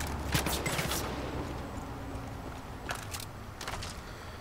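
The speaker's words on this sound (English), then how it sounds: "someone else was shooting at me" Gunfire in Far Cry 5 comes as bursts of cracking shots, a quick cluster early on and more bursts later, heard at moderate distance over a steady game background.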